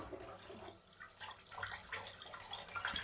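Cold tap water runs steadily into a kitchen sink on a January night, a faint, continuous splashing hiss with soft irregular spatters and no talk.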